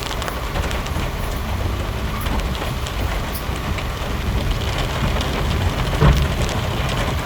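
Heavy monsoon rain pours down on KR Market in Bangalore, a dense, steady hiss of water striking surfaces that holds evenly from start to finish, with no voices.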